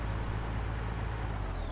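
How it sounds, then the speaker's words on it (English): A pilot truck engine in the video game Farming Simulator 17, heard as a brief, steady low diesel rumble with a faint rising whine, no talking. "And that is one awesome pilot truck. Yeah, it is. It sounds so nice."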